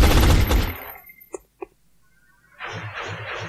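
Gunfire in the video game X-COM Enemy Unknown: a loud burst of rapid shots opens, two short sharp reports follow after a pause, then another sustained volley closes out, all without talk.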